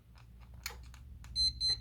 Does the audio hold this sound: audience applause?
no